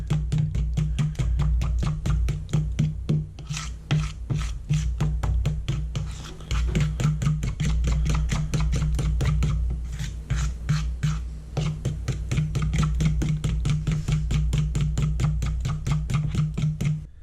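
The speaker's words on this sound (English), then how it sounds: "once you've whisked for about a minute, mixed everything in" Yorkshire pudding batter whisked with a fork in a bowl, a fast, steady run of close, crisp tapping and scraping strokes that continues almost without pause.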